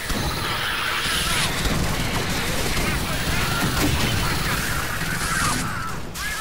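A minigun fires nonstop in the game Alien Swarm, a dense, relentless roar of rapid shots that fills the whole stretch at a steady, loud level.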